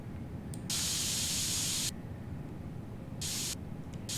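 Spray painting in the video game PC Building Simulator 2 gives two loud, close bursts of hissing aerosol, the first about a second long and the second shorter, over a low background rumble.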